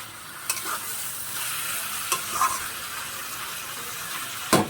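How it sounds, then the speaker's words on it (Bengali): Flat beans (shim) fry gently in a pan while a spatula stirs them, a soft steady sizzle broken by a few sharp scrapes and taps, close by with no voices. "একটু নাড়তে থাকতে হবে যাতে পুড়ে না যায়"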